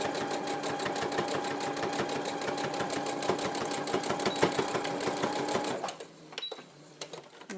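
A sewing machine stitches the curved head seam of a memory teddy bear, its rapid needle clatter rhythmic and loud for about six seconds, then it stops and slows into a few scattered clicks and handling noises.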